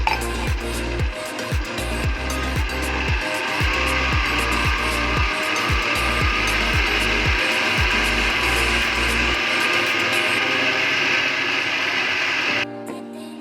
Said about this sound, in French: on ajoute de l'huile et on continue à battre pendant quelques minutes